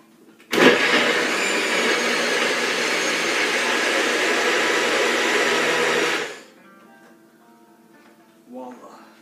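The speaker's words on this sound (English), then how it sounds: "Nutribullet, magic bullet, it don't matter, any blender, anytime" A Nutribullet-style blender whirs loud and close through a vegan protein drink, a steady high motor roar for about six seconds that cuts off abruptly, followed by a brief voice afterward.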